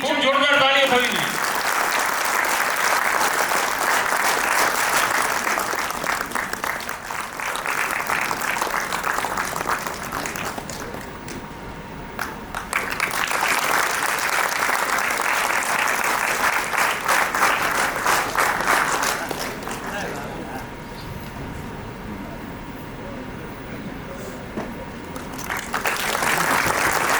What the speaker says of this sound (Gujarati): છેલ્લે ખૂબ જોરદાર તાળીઓ થવી જોઈએ